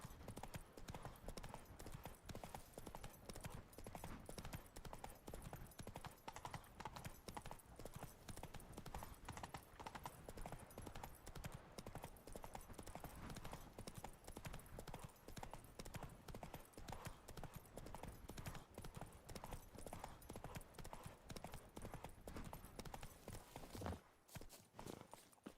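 The horse Roach trots in a video game, its hooves clip-clopping in a quick, even rhythm that runs throughout at a low, steady level.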